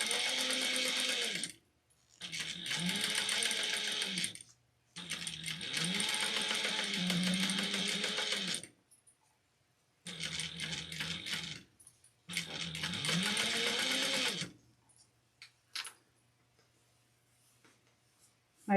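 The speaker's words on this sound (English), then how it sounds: "And then I'm going to sew 1/8 of an inch down here." A home sewing machine stitching a seam in fabric, running in several distinct bursts of steady whirring separated by short pauses, close and alone without talk.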